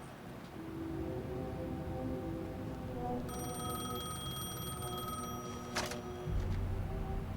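A phone rings in the video game Alan Wake 2, a bright electronic trill lasting about two seconds over a low, murky ambient hum, followed by a short click and a deeper rumble.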